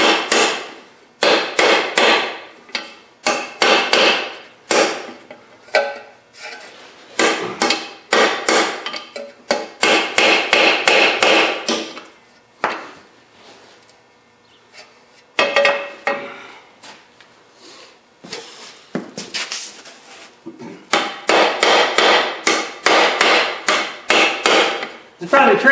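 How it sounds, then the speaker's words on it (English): A wheel bearing driven into a Honda Civic steering knuckle with an old bearing used as a punch, heard as loud, close bursts of rapid metallic hammer blows separated by short pauses. "we're going to take the old bearing and use that for a bearing punch to drive the rest of the way home"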